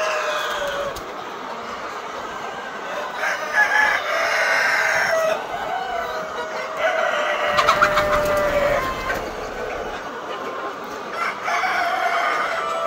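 A poultry farm holding about 2000 hens, hybrid and Sonali breeds, with roosters crowing repeatedly amid constant clucking and chatter from the flock, fairly close and busy throughout.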